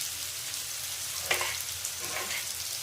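Onions fry in a pan with a dense, even sizzle close by, broken by a brief scrape or stir midway and a few faint clinks, with no talking.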